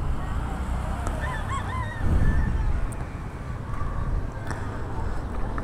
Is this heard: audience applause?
no